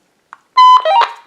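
A walkie-talkie on a DIY silent warning system gives its alert: a tiny click, then a loud electronic beep-chirp with a falling warble, brief and close with nothing else around it.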